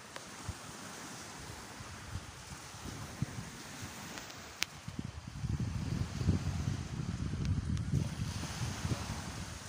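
Soft wind rushes past the microphone outdoors at a beach, growing into a louder, fuller gust partway through, with faint surf-like texture.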